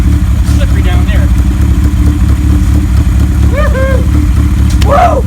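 A 1977 Kawasaki KZ1000A motorcycle idles and rides in a steady low rumble, with people talking over the engine throughout and a brief whoop near the end.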